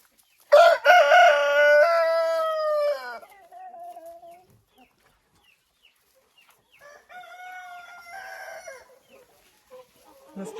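Farmyard chickens: a rooster crows loudly and close at the start, a softer crow follows later, with quiet clucking between.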